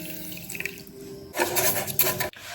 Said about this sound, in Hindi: अगर मैंने ये कटोरी चीनी की डाली है तो ये 1/4 मैं पानी डालूंगी